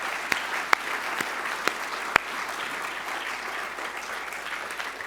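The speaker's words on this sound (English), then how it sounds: "One more round of applause for very special guest and Kate" An event audience applauds a special guest, a steady, even wash of clapping with a few sharper, louder individual claps standing out near the start, continuing at moderate volume.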